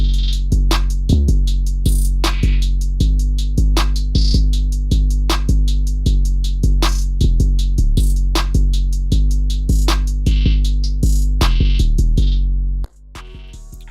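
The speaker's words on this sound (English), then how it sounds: "So yeah, overall everything with the hi-hats sounds like this so far." Programmed hi-hat pattern built in FL Studio, fast steady ticks broken up by quick rolls and stuttered bursts over a deep booming bass line, looping for over twelve seconds before cutting off abruptly.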